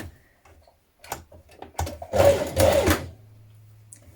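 A sewing machine stitches the centre back seam of a dress neckband, running in one short burst of about a second, with quiet handling clicks before it and a low steady hum after.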